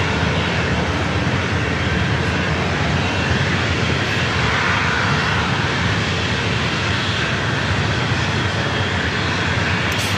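A jet airliner bound for Dallas Fort Worth roars continuously as it departs, with dense, steady engine noise that stays loud and unbroken throughout the stretch.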